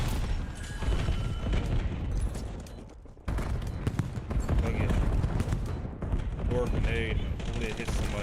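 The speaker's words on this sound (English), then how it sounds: "Grenade. Hopefully it hit somebody." A grenade blast in Call of Duty lands amid a busy stretch of rapid gunfire and impacts, with a sharp burst cutting through the chaotic firefight as players talk over the action.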